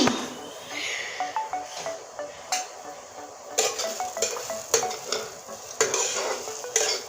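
Pointed gourd slices fry in a pan with a soft sizzle as a spatula scrapes and stirs them in quick, rhythmic strokes, with sharper metallic clinks in the second half.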